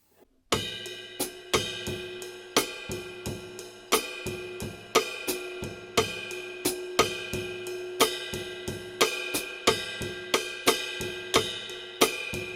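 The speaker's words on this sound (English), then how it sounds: "Of course, you can also play the accents on the bell of the cymbal." Bossa nova groove on a drum kit, with accents struck on the bell of the cymbal ringing out over a steady, repeating pattern of close, crisp hits that continues evenly throughout without talk.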